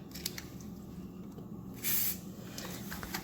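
A short burst of WD-40 aerosol spray onto the shocks of an electric RC car, a brief close hiss over a quiet background.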